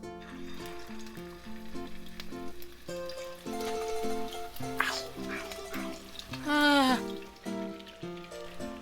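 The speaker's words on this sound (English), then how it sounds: "then I'm going to fry these meatballs" Meatballs browning in hot olive oil in a skillet, a steady soft sizzle and spatter running beneath louder background music, with one brief stronger burst of crackle near the end.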